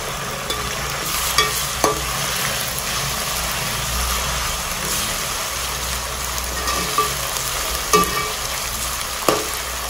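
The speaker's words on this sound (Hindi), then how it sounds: "थोड़ी देर इसको भून लेंगे अदरक लहसुन के पेस्ट को, थोड़ा सा कच्चापन निकल जाए।" Ginger-garlic paste frying with onions in a pot for masoor pulao, a steady close sizzle with several sharp stirring scrapes and clicks spread through the clip, no talking.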